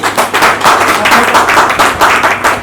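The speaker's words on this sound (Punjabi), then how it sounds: "ਜ਼ੋਰ ਨਾਲ ਤਾੜੀਆਂ ਮਾਰੋ ਬ੍ਰੇਕਫਾਸਟ ਦੇ ਨਾਲ" A crowd of audience members claps loudly and continuously in a dense, sustained wash of applause at a business or marketing event, close and full throughout.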